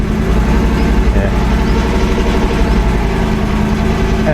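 A Ram 1500 Rebel pickup truck engine idles steadily with a deep, even rumble, close and continuous, with no voices.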